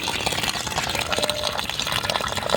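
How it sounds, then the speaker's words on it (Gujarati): Water gushes from a 12V DC pressure motor pump drawing from about 25 feet down, a continuous close splashing and pouring flow with a busy, fluttering texture. "આટલું એટલું પાણી કાઢે છે"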